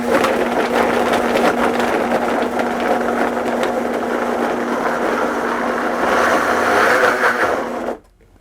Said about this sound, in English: Turn my blender on here.